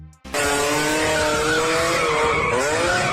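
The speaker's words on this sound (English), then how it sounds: "The red Ferrari takes off suddenly, loses control, and hits the curb." A red Ferrari loses control on a track, its tires squealing and skidding over a loud, revving engine in one continuous burst of about three seconds; no distinct curb impact stands out.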